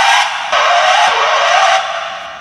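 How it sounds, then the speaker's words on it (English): A car-stop sound effect played on a Roland G-70 keyboard, a loud, steady broadband screech of skidding tires that runs for a couple of seconds and then fades slightly at the end. "So you got stuff like a car stop"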